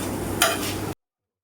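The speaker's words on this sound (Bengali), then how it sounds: "এই যে রুমা ভাজা শুরু করে দিছে।" Ash gourd leaf fritters frying in a pan, a steady close sizzle with a brief brighter crackle burst partway through, then cut off abruptly.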